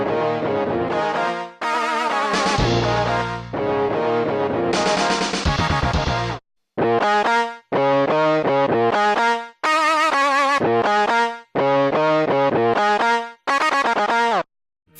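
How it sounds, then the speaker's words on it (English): Distorted SNES-synthesized guitar line from the Mega Man X stage select theme, loud chiptune riffs in choppy phrases separated by short abrupt gaps, with no accompaniment. "You can hear it pretty clearly if you isolate the guitar section from the stage select theme."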